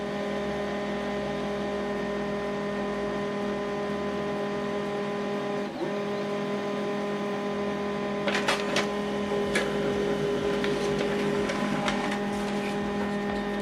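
An HP LaserJet MFP M140we laser printer runs steadily with a constant mechanical hum and tonal whine, then adds rapid clicking and feeding noises near the end as a black-and-white document prints.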